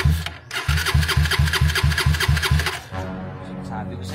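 A motorcycle engine cranks over in a quick run of rhythmic starter pulses for about two seconds, then catches and settles into a lower, steady idle, close by.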